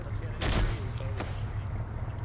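Gunfire in the Arma 3 military video game: two sharp shots, the first a heavier burst and the second a single crack, over a steady low rumble of background noise.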